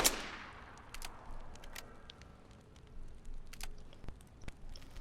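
One sharp firework bang in a video game fades into scattered crackles and pops that come and go at a low, distant level.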